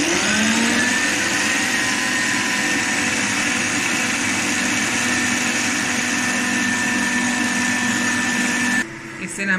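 An electric mixer runs steadily at high speed, whipping cream for a peppermint crisp trifle, a continuous whirring motor hum that stops abruptly near the end.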